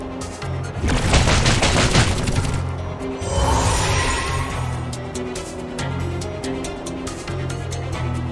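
Gunfire barrage in the video game Reverse: 1999, with dense bursts of rapid shots in two loud waves followed by scattered sharper hits and crashing impacts.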